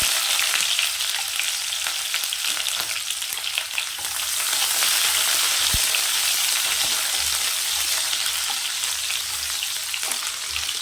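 Mustard seeds, urad dal and small shallots fry in hot oil for a karuvattu kulambu, giving a steady, dense sizzle with scattered crackles and pops, close and continuous with no talking.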